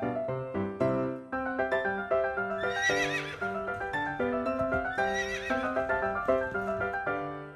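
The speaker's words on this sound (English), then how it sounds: "H for horse." A horse whinnies in a long, loud neigh with rising and falling pitch, followed by a second whinny and light clip-clop of hooves, set against a bright, musical backdrop.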